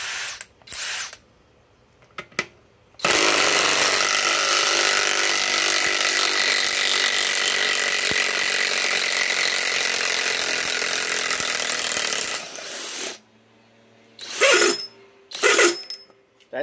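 A cordless impact driver sinks a large lag screw into wood, hammering continuously for about nine seconds with a loud, rattling buzz, preceded by short bursts and followed by a few brief spurts, close up with no speech.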